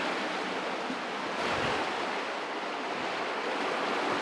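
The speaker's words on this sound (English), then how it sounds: "Over here's the river." Water rushes in a river at the Woman Hollering Creek site, a steady broadband roar that stays close and even throughout, with no voices.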